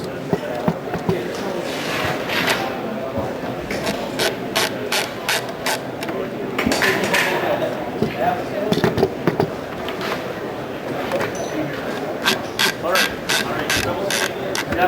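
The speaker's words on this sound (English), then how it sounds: "The torque wrench here is preset to 62 foot-pounds." FN SCAR rifle barrel being tightened with a torque wrench preset to 62 foot-pounds, giving repeated sharp ratcheting clicks in bursts over a steady background of indoor noise and murmur.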